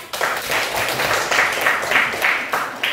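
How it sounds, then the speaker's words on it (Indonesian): A classroom of elementary school pupils claps together for several seconds, with steady, dense applause that rises in bursts and stays fairly close and loud throughout. "Silakan tepuk tangan."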